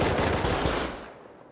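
Rapid automatic gunfire in the game Rust, a dense burst of close, loud shots for about a second that then cuts off into a fading echo.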